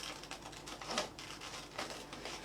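Scissors snipping through fabric to cut out a Christmas tree applique shape, a close, steady run of soft crisp cuts with no talking.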